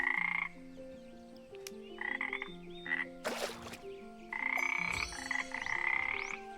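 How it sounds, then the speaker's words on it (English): A frog croaking in the video game Star Stable, with loud, repeated pulsing croaks over a soft melodic music bed and a brief splashy burst in the middle. "Oh, you hear that? I didn't realize we had, what was that, a frog?"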